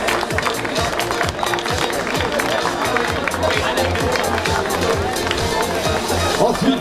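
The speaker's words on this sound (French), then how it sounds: "On peut les applaudir. Applaudissements," Crowd applause for podium finishers at a triathlon awards ceremony, a dense, steady, rhythmic clapping that continues throughout, mixed with chatter and voices.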